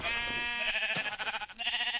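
A video game sheep bleats loudly and close in one drawn-out wavering cry, broken near the middle by a short sharp hit, then trailing into a tremulous end.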